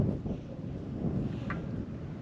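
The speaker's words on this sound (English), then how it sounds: "It's windy here, as you can tell." Steady wind buffeting at a sunset camp on the Nullarbor Plain, a continuous low rumble with a gusty swell and no speech over it.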